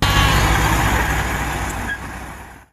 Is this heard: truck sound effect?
yes